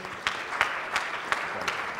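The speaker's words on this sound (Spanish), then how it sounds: "Bueno, un aplauso a Gerardo, gracias." Applause at an ophthalmology congress session, a steady, moderate patter of clapping from the audience, with a few regularly spaced louder claps standing out.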